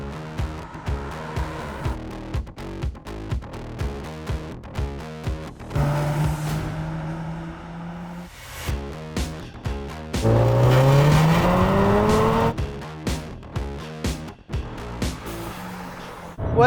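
A Subaru S206 NBR, a rare limited-edition Nürburgring special, drives hard with the engine revving up in quick, regular bursts between gear shifts, plus a longer sustained pull and a brief tire squeal, heard from inside the car.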